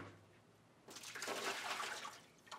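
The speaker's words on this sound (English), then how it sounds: "You'll want to pour all the water out of the filter housings." Water pours out of plastic water filter housings, a quiet splashing gush that starts abruptly after a short silence and runs for about two seconds before trailing off, nearby with no talk.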